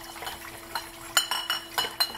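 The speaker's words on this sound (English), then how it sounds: "Now I'm going to rotate this rag. It's a little noisy." Wine bottles rattle and clink as a rag is rotated inside them during rinsing for Chardonnay bottling at a winery, giving a run of close, irregular glassy knocks and chinks that sharpen toward the end.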